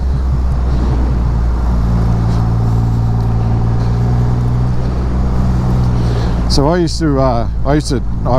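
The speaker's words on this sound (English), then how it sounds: "you can hear it auto blip on the downs, and you can hear it just cut the throttle on ups" Triumph Rocket 3R motorcycle engine runs with a steady low drone and wind noise while riding, followed near the end by rising and falling revs as the throttle blips and cuts on gear changes.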